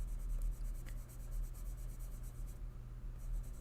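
Colored pencils, Color Soft layered over Woomer pencils, scratching steadily across paper in a continuous soft rubbing stroke, close up beneath a low background hum.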